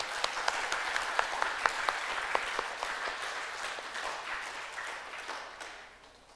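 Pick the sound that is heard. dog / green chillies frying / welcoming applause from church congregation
welcoming applause from church congregation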